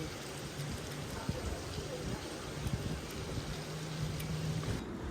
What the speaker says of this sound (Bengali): এত এত বৃষ্টি